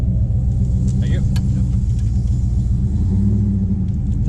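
Cammed Ram truck on a quarter mile run, its engine giving a loud, steady low rumble throughout with a rhythmic pulsing idle character and a slight swell near the end.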